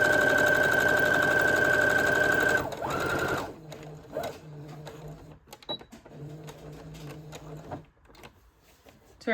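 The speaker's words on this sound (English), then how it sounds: "Then you're gonna go again, back stitch." A sewing machine back-stitches a puffy bow keychain, running in a loud steady whir for about three seconds, then stopping and starting in shorter, quieter bursts with small clicks between.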